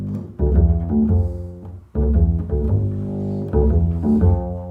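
An upright bass played pizzicato runs through the bass line of a tune, with deep, resonant plucked notes repeating the same phrase three times, close and alone.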